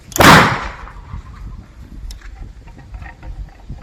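A "Lan Thung" bird-scaring cannon tube fires once, a sharp loud bang with a brief burst and fading tail, then only faint background rustle and low noise outdoors.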